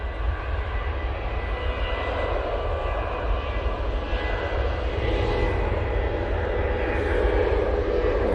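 Ryanair airliner passing at Manchester Airport, a steady loud engine roar that holds evenly throughout and swells slightly toward the end.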